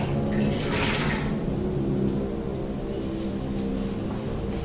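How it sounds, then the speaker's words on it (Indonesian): Water splashes and trickles steadily as a soapy washcloth is rinsed over a patient's back during a bed bath, with a brief louder splash near the start and continuous low running water throughout. "Langsung lap yang sudah diberi sabun dari punggung sampai ke bokong, lalu dibilas"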